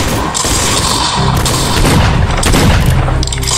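Booming gunfire in the FPS video game ROACH, heavy blasts and bursts rolling on continuously and loud, with no talk.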